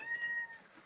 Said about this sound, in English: that is our whingy cat